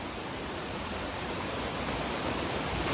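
Waterfall at a tourist spot in Gajapati district, Odisha, rushing as a steady, dense broadband roar that holds even and continuous throughout, with no voices over it.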